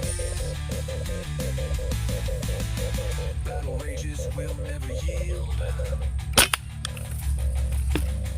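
Steady music plays, and near the end a single sharp gunshot-like crack from an air rifle used for bird pest control cuts through, followed shortly by a second, fainter pop.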